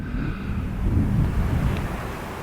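Steady wind buffets the cliff tops at Bennan Head on the Isle of Arran, a continuous low rushing roar with gusty swells, close to the microphone and with no voices.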